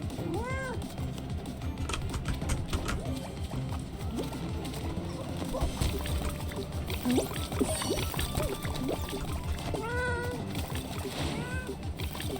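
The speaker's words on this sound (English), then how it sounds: "We are meowing." Players meow in the Fall Guys video game, with several short rising cat-like calls scattered over busy game sounds and background chatter.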